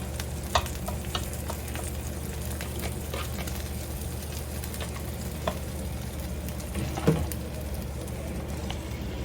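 Eggs mixed with cottage cheese fry in a pan next to bacon, giving a steady close sizzle and crackle throughout, with occasional soft taps and stirring sounds and no talking.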